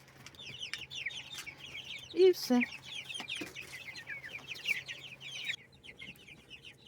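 Several hens cluck and chatter continuously nearby, with a couple of louder squawks, and a brief spoken phrase near the end.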